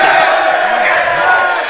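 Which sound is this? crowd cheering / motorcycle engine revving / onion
crowd cheering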